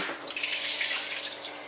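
Shower water running steadily inside a log cabin in Scotland, a continuous close hiss of spray that holds constant throughout with no voices.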